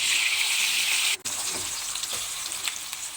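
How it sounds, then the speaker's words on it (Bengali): Onions frying in a pan, a strong close sizzle that cuts out abruptly, then returns as a softer frying hiss with light stirring taps, no voices. "আমার পেঁয়াজগুলো ভাজা হয়ে গেছে"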